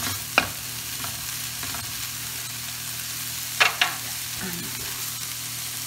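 Chopped salami frying and being stirred in a pan, a soft steady sizzle punctuated by a few sharp clicks and scrapes of a utensil, close by, with a brief word spoken.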